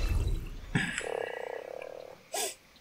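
A frog croaking in the game ARK, a short run of rough, pulsing croaks followed by a brief sharper call, close and clear with no talking.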